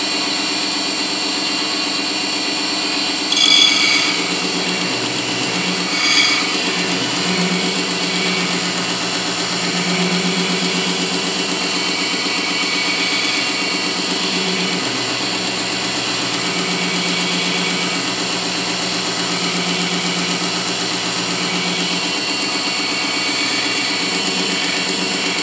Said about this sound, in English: You're filing it down too much.